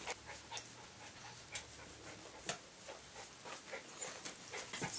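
Toy poodle puppies, two brothers from the same litter, pant softly and steadily with a few faint ticking sounds, fairly close and with no talking.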